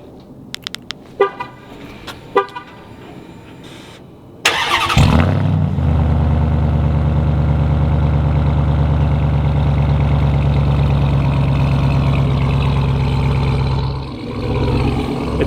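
A RAM TRX pickup truck beeps a few times before its engine fires with a loud roar, then settles into a deep, steady rumbling idle heard close by for several seconds, with no talking.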